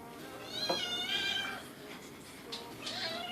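A kitten meows several times in quick, high-pitched cries, close by, with a faint hum in the background.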